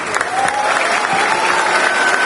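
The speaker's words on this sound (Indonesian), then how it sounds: "Tepuk tangan untuk Ray." An audience of students and young people at a dialogue event in Pontianak applauds a speaker, a loud, dense and steady burst of many hands clapping close together, with no pauses.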